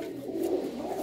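A pigeon coos softly, a single low murmuring call with no voices over it.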